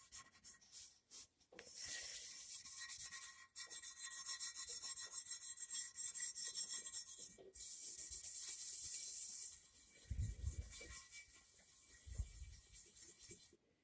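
4/0 steel wool soaked with Kroil rubbed over rusty metal with an original blued finish, giving long, close scratchy strokes separated by brief pauses, with no talking.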